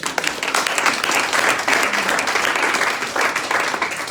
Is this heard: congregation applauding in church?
yes